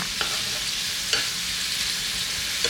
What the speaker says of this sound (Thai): จากนั้นก็ผัดให้ส่วนผสมของเขาเข้ากันค่ะ